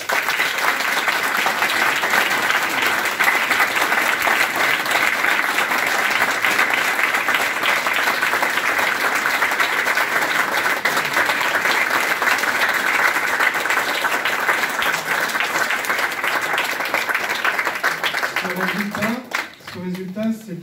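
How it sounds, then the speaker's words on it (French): Sustained crowd applause fills the room for about twenty seconds, loud and steady, for the re-elected mayor of Châteaubriant and his team, thinning near the end as a voice begins to speak. "je voudrais que vous l'applaudissiez."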